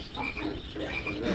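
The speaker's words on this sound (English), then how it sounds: "I've got some frogs here to visit today." Dense chorus of frogs croaking continuously, many overlapping calls at once, steady and moderately loud with no pauses.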